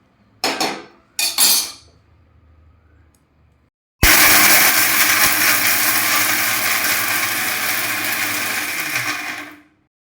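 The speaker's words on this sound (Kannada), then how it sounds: "ಈರುಳ್ಳಿ ಕೂಡ ಇದರಲ್ಲಿ ಹಾಕಿ ರುಬ್ಬುತ್ತಾ ಇದ್ದೀನಿ ಈಗ" Two short clattering bursts come first as onions are dropped into a mixer grinder jar. After a brief pause the machine starts and grinds continuously with a loud, steady whir for about six seconds, then stops abruptly, with no voices.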